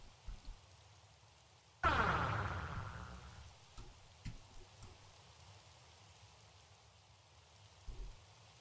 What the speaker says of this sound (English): Sure enough, it's raining